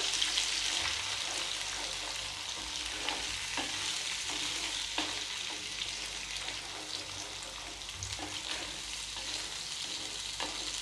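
Paneer masala sizzling and frying in oil in a pan, a steady close crackle with occasional stirring scrapes and no voices.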